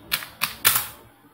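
Enter key pressed repeatedly on a computer keyboard while entering a purchase record in Tally accounting software: three sharp, close clicks about a quarter second apart, the last slightly heavier, with no speech.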